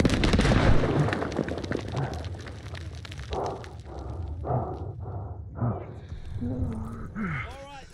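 A grenade blows up a machine gun nest during a Call of Duty: Vanguard campaign battle, with a heavy blast rolling into dense gunfire and war noise while soldiers shout over the din.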